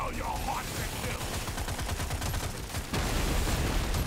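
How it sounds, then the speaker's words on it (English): Dense, continuous explosions and rapid gunfire from the video game Deep Rock Galactic: Survivor, a loud unbroken barrage of crackling blasts with no pauses. "That's a lot of explosions and a lot of XP."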